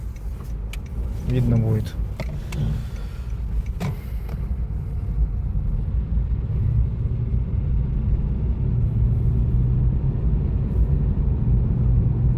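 A Honda Fit GP5 hybrid pulls away and accelerates, its steady low engine and road rumble building inside the cabin under brief conversation.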